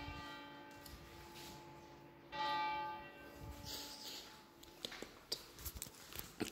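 A church bell rings in a laundromat in Vernon, France, its sustained tones droning softly in the background beneath clicks, footsteps and machine noise, rising briefly louder midway.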